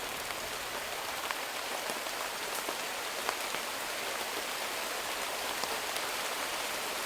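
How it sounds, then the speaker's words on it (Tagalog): Heavy rain pours down steadily in a dense, unbroken hiss with scattered louder drops, close and loud throughout with no voices. "sobrang lakas po ng ulan"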